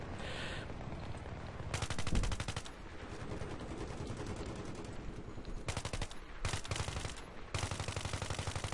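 Rapid automatic gunfire from the player's weapon in Battlefield 3 rattles in long bursts on the Sharqi Peninsula map, broken by short pauses and a heavy thump, with battle noise underneath.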